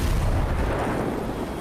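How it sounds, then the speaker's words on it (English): Grenade blast in the video game Ghost Recon Breakpoint: a single heavy, rumbling boom that starts loud and decays over about a second and a half. "Oh, I didn't mean to throw that grenade."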